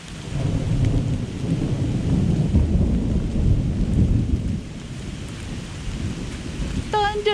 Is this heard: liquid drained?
no